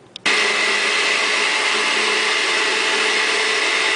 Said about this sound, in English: I'm going to give it a quick pulse with the blender